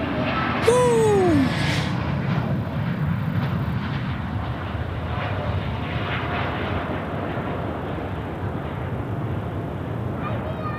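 An Asiana Airlines jet takes off at Sydney Airport with a sustained rumbling engine roar. A brief bird-like squawk or honk rises over it near the start, then the roar carries on steadily without speech.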